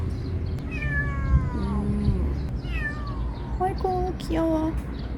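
A small kitten meows several times, high-pitched, descending cries in quick succession, close by, with a person's voice murmuring in the background.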